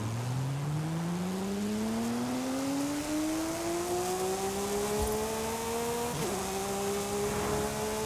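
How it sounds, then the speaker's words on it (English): The flat-six engine of a Porsche Cayman GT4 RS in Forza Horizon 5 winds up in one long, smooth climb under hard acceleration, then dips at a brief shift before pulling on, loud and close. "I love the sound of flat sixes"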